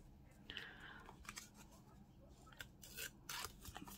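A paper leaf torn by hand to size for an envelope-pocket craft, heard as a few short, dry ripping bursts close by, separated by quiet pauses.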